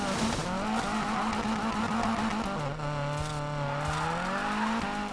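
A Volvo Amazon drifting in Need for Speed Payback, its tires squealing in a long, wavering howl over a steady engine drone. The sound is loud and continuous.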